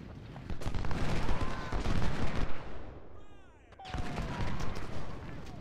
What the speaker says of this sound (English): You'd expect the artillery to shoot now if they're not.